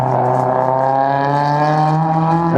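A Honda Civic with a loud exhaust races through an autocross course at Tri City Raceway, its engine droning steadily and climbing gradually in pitch under hard acceleration, loud and close for the whole stretch.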